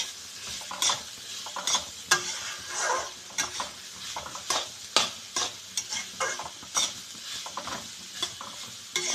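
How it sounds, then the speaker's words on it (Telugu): Vegetables and egg fry and sizzle in oil in a home kitchen pan while a utensil stirs and scrapes, giving steady close hissing broken by repeated sharp scraping strokes. "ఇవి కొంచెం ఆయిల్లో మగ్గుతాయి కదా."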